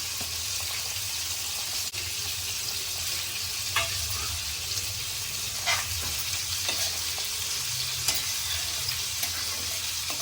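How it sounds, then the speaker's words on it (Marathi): Prawns go into a simmering Marathi-style prawn curry with drumsticks and potatoes, giving a steady close sizzle with occasional soft stirring scrapes of the spoon through the pan; no talking. "आता आपण कालवणमध्ये घालूया कोळंबी"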